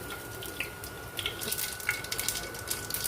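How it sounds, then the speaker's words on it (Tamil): Small crackling pops and sputters from mustard seeds in hot oil, irregular and fairly quiet, with a steady faint background hiss. "கடுகு நல்லா பொறி ஆரம்பிச்சிடுச்சு"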